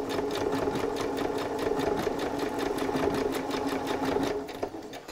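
A Butterick Signature EB6100 sewing machine stitches a blind hem at a quick, steady pace, its needle clattering in an even rhythm at close range until it slows and stops at the end.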